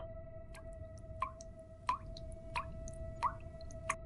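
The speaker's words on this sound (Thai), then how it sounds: "มีเพียงเสียงน้ำหยดจากฝักบัวที่ดังเป็นจังหวะ" Water drips steadily from a bathroom shower head, each drop landing with a clear plop at a slow, even rhythm of about one every two-thirds of a second, close by and otherwise quiet.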